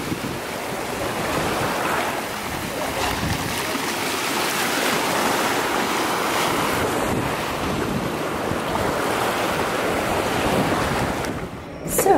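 Ocean waves wash continuously onto a beach in Cancun, Mexico, a steady roaring surf with wind buffeting the microphone throughout and no voices.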